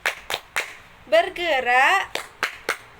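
Rhythmic hand clapping in a classroom clap game, a few sharp claps in a steady beat, then a teacher's sing-song voice, then more claps in the same beat.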